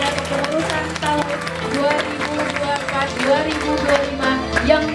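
Applause from an audience at a high school student council (OSIS) inauguration ceremony: steady, dense clapping that fills the hall, mixed with music and a voice speaking over it.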